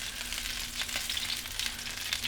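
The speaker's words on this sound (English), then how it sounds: "You hear that sizzle and pop." Crispy chicken skin sizzles steadily inside an air fryer, a close, dense hiss dotted with sharp little pops and crackles throughout.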